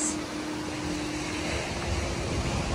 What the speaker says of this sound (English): look at this waves